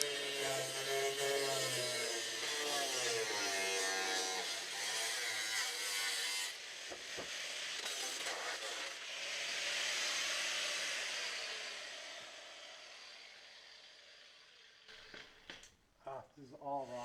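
Air blasting rock chip coating off the rotted rocker panel of a Subaru Impreza, a loud steady hiss of compressed air running for most of the stretch, then fading into a few short bursts near the end.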